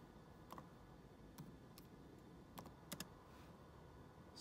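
Keys tapped on a computer keyboard while entering a terminal command on a Mac, heard as a few scattered quiet clicks in small bursts over a low steady hiss, with no voices.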